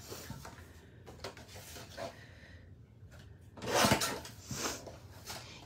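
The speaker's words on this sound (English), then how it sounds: "So I'm gonna just trim these down a little bit as well." Painted paper is trimmed down with a paper cutter, giving faint scraping and rubbing strokes, with a slightly louder slicing sweep near the end.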